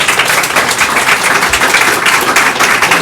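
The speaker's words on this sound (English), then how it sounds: "Would you guys give them a round of applause?" Convention-panel audience applauding at a gaming expo, a dense, steady wash of many hands clapping throughout, loud and sustained without speech.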